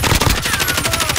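Rapid automatic gunfire from a gun in Call of Duty: Warzone, a loud, close burst of evenly spaced shots firing continuously throughout.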